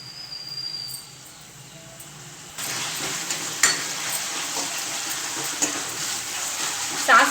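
Aloo manchurian with tomato sauce being stirred in a pan, a steady scraping and sizzling that grows denser partway through, with a few sharper utensil clinks near the end.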